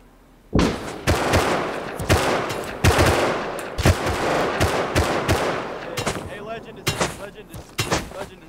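Rapid bursts of gunfire in the survival video game Rust, loud and close, repeating in irregular volleys with short gaps between them, with no speech over the shots.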